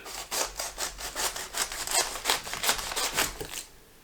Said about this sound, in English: I'm just gonna cut thin strips, less than 1/4 inch.